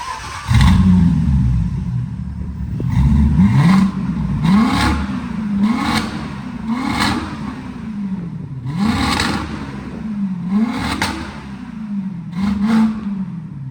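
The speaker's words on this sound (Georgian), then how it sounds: "შუაში აქვს დროსელი, რომლის გადახსნის მერეც საკმაოდ სასიამოვნო ხმა განსაკუთრებით ავტომოყვარულებისთვის" Mercedes W211 engine with its throttle opened, revving loudly in repeated rising-and-falling surges, close and steady with a throaty drone between the pulses.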